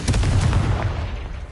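Confringo blast spell cast in the Hogwarts Legacy video game, a single loud, close booming burst with crackling that fades quickly, with no talk.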